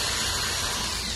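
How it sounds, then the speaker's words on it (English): A small power drill whirs steadily while boring holes into a polymer clay eye for a shrunken head sculpture, a thin continuous mechanical hum with faint grinding, close and fairly quiet, no talking. "I'm going to drill one underneath here. And I'm going to drill one here."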